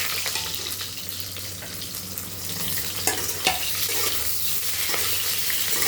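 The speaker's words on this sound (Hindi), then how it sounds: "अब हमें इसी में हमें अपने प्याज को भूनना है हल्का" Onion fries lightly in a pan with a loud, close, steady sizzle and a few stirring clatters, with no one talking.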